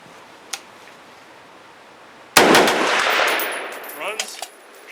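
Spikes AR-10 rifle firing from a C Products steel magazine: after near silence, a loud, close, sharp gunshot blast with a long echoing decay, then a few lighter clicks and reports near the end.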